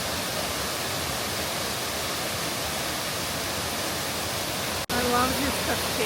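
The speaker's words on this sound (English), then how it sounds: "I love this cascade." A waterfall cascade in Lamington National Park gives a steady, dense rushing roar that fills the whole clip, broken by a brief cut near the end before the rush resumes.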